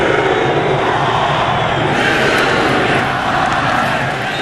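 A roaring home crowd at a Rutgers college football night game against Maryland, a dense, steady wall of cheering and noise from a packed stadium, loud and unbroken throughout.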